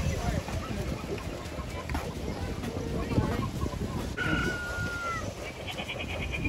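Chickens crow and cluck amid loud animatronic dinosaur sounds at an outdoor attraction in California, with people talking over the busy, noisy mix.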